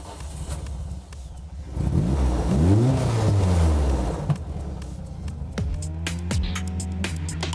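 A Mitjet 2-litre race car engine cranks and fires, then revs up and down in loud sweeping surges before settling into a rough idle broken by sharp throttle blips, close by with no talking.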